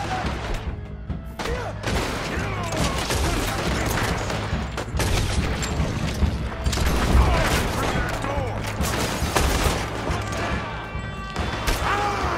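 Dense, sustained gunfire in a Red Dead Redemption 2 shootout: overlapping shots, bursts and impact crashes fill the whole stretch, loud and continuous, with shouted voices mixed in.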